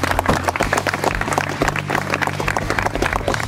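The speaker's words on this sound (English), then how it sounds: "Let's give the mess staff a big round of applause." Audience applause for the mess staff at a Civil Air Patrol emergency services and survival training bivouac, a steady dense wash of many hands clapping at once over low background rumble, continuing throughout.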